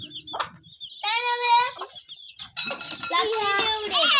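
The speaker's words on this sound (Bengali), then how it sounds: "কাদের রে মুরগি?" Chickens cluck in short bursts, close by, with voices in the background and the clucking breaking off between calls.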